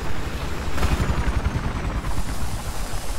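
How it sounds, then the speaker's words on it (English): A helicopter in the Battlefield 4 video game gives off a constant, loud, low, pulsing rotor rumble with dense broadband noise, heard up close with no voices over it. "I'm just sort of amazed that I've kept the chopper alive this long."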